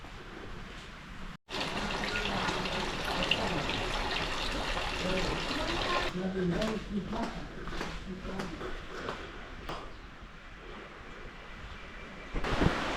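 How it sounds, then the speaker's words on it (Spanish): Water running through the narrow, steep streets of a whitewashed hillside village in Spain, a continuous rushing flow with people talking over it. "Agua no le falta, corre por todos lados."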